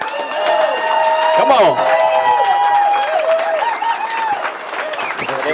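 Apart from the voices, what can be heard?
audience applause and cheering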